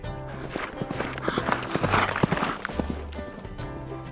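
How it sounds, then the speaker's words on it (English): Galloping horses pound the ground with fast, irregular hoof clops and thuds at a moderate distance, alongside a low rumble, and no one speaks. "Galloping horses run and leap with flying tails and stomping feet."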